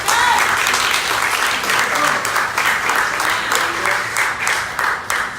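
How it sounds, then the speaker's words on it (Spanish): A church congregation breaks into sustained applause during a Spanish-language worship service, a dense, steady wash of many hands clapping together for several seconds, loud and close. "Un aplauso, querido."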